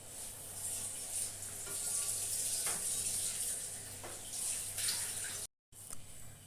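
Melted, strained jaggery syrup is poured into a mixture, making a soft, steady hiss of liquid that runs for several seconds with a brief gap near the end, with no talking.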